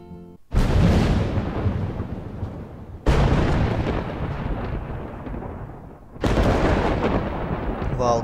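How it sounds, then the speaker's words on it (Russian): Loud rolling thunder cracks from a storm in the video game Life is Strange, three heavy booming bursts each fading into a long rumble, with hard rain implied by the stormy setting. "Вау, какая буря."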